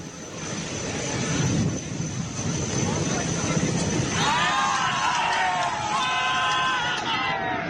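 A rescue helicopter hovers during a ropeway accident rescue in Deoghar, Jharkhand, making a loud, steady engine and rotor roar. Background crowd noise sits under it, and a higher engine whine swells partway through.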